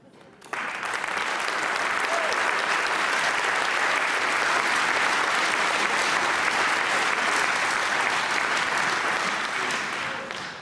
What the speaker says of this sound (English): take the applause of this crowd